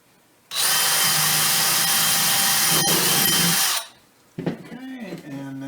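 A power drill set on low bores into a wooden cabinet drawer front during a DIY repair. It gives one loud, steady whir lasting about three seconds, then cuts off. A person speaks briefly afterward.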